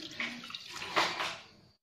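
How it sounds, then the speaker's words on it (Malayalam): Boiled and cooled water is poured into mashed banana for homemade banana wine, a soft, close splashing pour lasting under two seconds before falling silent. "അപ്പോൾ ഇനി ഇതിനകത്തേക്ക് വെള്ളം ചേർത്ത് കൊടുക്കാം"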